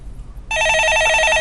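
An incoming call to a studio phone line starts with an electronic telephone ring that begins abruptly after a short hush and continues as a rapid, warbling trill, loud and close.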